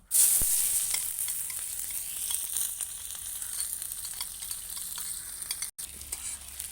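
Onion dropped into hot mustard oil for brain masala (bheja fry) gives a loud, close, steady sizzle that starts abruptly and carries on with light crackling throughout, with a brief cutoff near the end.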